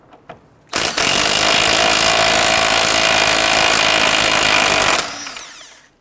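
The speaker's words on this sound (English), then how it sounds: "Using a 22mm socket, we're going to go ahead and loosen and remove the nut on the tie rod end." A continuous loud whirring rattle from a power tool driving a 22mm socket to loosen the outer tie rod end nut on a 2006-2014 Honda Ridgeline, running steadily for about four seconds up close before stopping.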